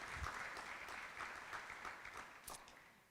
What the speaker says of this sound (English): She needs the big round of applause.